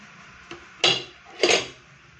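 A spatula knocks against a pot while stirring boiled tapioca, Idukki style. Three distinct clanks land close and clear, the last two louder, over a quiet background.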